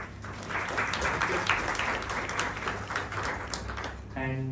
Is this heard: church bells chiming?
no